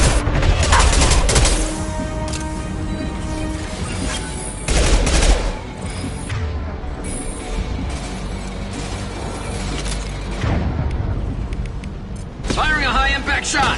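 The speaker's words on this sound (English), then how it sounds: "Firing a high-impact shot." High-impact gunshots fire in the Mass Effect 2 Legendary Edition game, with heavy booming bursts and mechanical clanks layered over a loud, busy battle mix, with strong hits near the start, the middle and the end.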